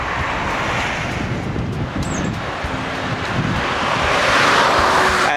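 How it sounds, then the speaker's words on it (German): Floodwater of the river Sieg rushes past at high water in January 2011, a steady, loud broadband roar with wind noise on the microphone, swelling slightly toward the end. "ich wollte einmal das Hochwasser in der Sieg oder von der Sieg filmen"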